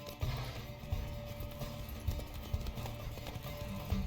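A horse named Roach gallops in The Witcher 3, hooves pounding in a quick, steady clip-clop rhythm at moderate volume throughout, with faint background game ambience.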